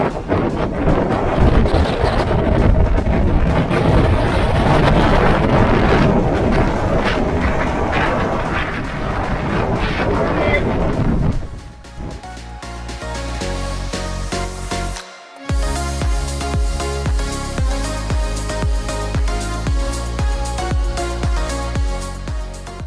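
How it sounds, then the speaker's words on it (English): Strong wind on the Faroe Islands buffets the microphone with loud, gusty rumbling for several seconds, then gives way to steady music after a brief dropout. "It's still windy and it's still rainy."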